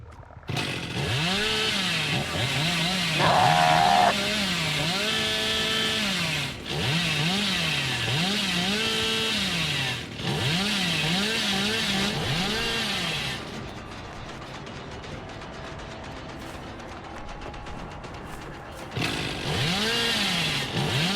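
The Hillbilly's chainsaw in Dead by Daylight revs loudly in repeated rising and falling surges, steady and close, briefly dropping off before roaring up again.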